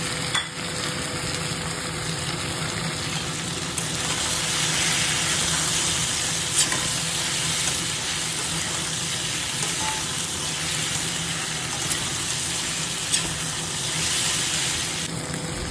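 Potatoes frying with browned meat in a pan: a steady, close, loud sizzle that hisses and crackles without pause, with occasional faint stirring clinks.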